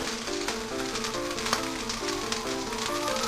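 Scrapple frying in a pan, a steady, close crackling sizzle with dense hiss throughout, overlaid by faint tonal background music and no talking.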